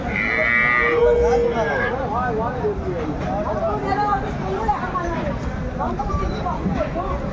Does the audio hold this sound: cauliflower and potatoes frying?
no